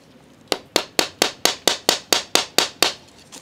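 A nail being hammered in, eleven sharp, evenly spaced blows about a quarter second apart, loud and close, each strike ringing briefly before the next, with no speech.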